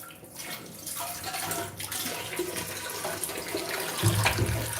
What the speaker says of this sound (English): So I'm just gonna wash it again one more time, just to make sure all the particles are out.